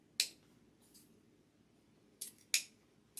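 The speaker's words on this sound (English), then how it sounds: "Okay, got the ribbon tails cut." Scissors snip through ribbon tails for an Easter cross wreath, giving a few sharp, close cuts in quick clusters with quiet pauses between them.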